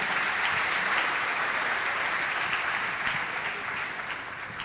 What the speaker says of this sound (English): let's clap for all those who have asked questions.